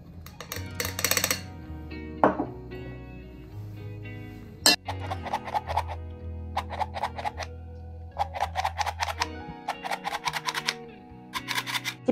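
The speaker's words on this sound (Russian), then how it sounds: "И я буду это просеивать через вот такое вот сито." Flour mixed with baking powder is sifted through a sieve for a pear upside-down cake, heard as close rhythmic tapping and rattling bursts repeated in short runs, alone without talk.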